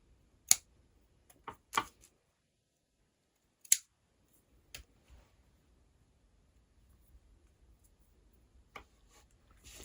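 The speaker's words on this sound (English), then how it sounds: "you want to gently snip those loose strands from the other side" Scissors snip loose yarn strands on the back of a punch needle piece: several crisp, close cuts come in irregular clusters with quiet pauses between them and no talking.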